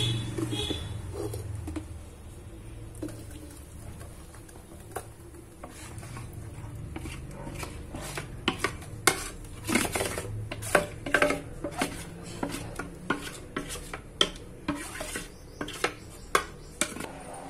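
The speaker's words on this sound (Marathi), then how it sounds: "छान ढवळून घेऊया. एकत्र झालं पाहिजे." A spoon stirs plum cake batter made with jaggery, wheat flour and dry fruits in a bowl, scraping and tapping at an irregular pace, with the clicks growing sharper and louder toward the end, and a quiet hum underneath.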